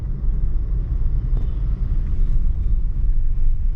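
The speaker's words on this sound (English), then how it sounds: "I think I'll have to deal with this traffic and these truckers till Surat." Heavy road traffic in the city of Vapi, India, with trucks on the route toward Surat: a loud, continuous low engine rumble that swells and eases slightly as vehicles pass close by.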